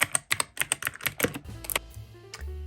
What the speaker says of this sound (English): here's my brother's keyboard with blue switches